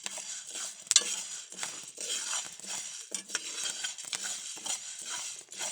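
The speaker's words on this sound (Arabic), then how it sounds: "غادي ديري تبقاي تخلطيها حتى تحمر" Wheat grains are stirred in a pan as they roast, with a steady scraping and rattling of the utensil against the pan. Occasional sharp clinks stand out, and the whole thing is fairly close but quiet.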